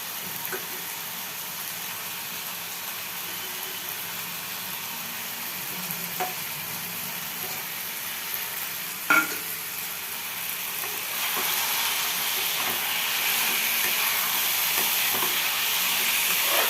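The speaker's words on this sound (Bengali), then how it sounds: "এই যে আদা রসুন বেটে রেখেছিলাম, এটা দিয়ে দিচ্ছি।" Ginger garlic paste sizzling and frying in a pan, a steady broadband hiss rising toward the end, with occasional stirring scrapes and clicks and no talking.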